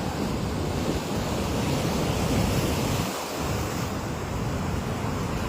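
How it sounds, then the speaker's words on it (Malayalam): Rough monsoon sea surf rolling and washing onto the beach at Shankumugham, a steady, loud roar of breaking waves with wind noise on the microphone and no talk. "തിരമാലകൾ കരയിലേക്ക് അരിച്ചു കയറുന്ന ഒരു സാഹചര്യമാണുള്ളത്"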